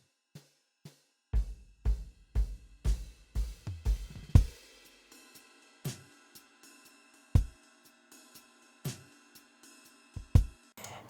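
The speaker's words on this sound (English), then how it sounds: "The drums that we're going to be creating originally sounded like this." Acoustic drum kit in its raw, unprocessed recording: kick, snare and tom hits in a loose groove building to a fill, then sparser hits with cymbals ringing over them, fairly quiet and natural.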